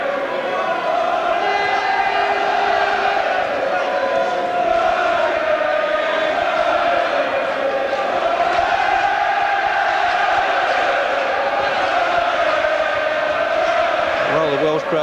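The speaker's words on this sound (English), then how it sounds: "Well, the Welsh crowd, Jim, already in good song." A large Welsh crowd sings together in an arena at a boxing match between Steve Robinson and Sean Murphy, a sustained, wavering mass of voices that carries steadily from a distance without a break.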